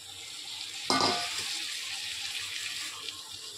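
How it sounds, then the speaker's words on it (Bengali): Cut string beans tip into a hot pan of frying prawn and potato, a sudden loud sizzle bursting up near and close, then settling into a steady hiss and crackle with no voices. "এখন আমি এর মধ্যে দিয়ে দিচ্ছি কেটে রাখা বরবটিগুলোকে"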